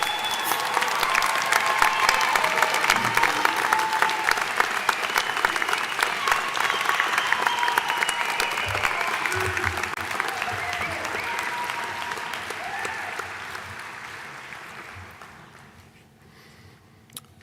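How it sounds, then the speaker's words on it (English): Graduates return to their seats at a summer commencement ceremony as the audience gives a sustained round of applause, a dense wash of clapping that stays loud for most of the stretch before thinning out toward the end. "how about we give them another nice round of applause?"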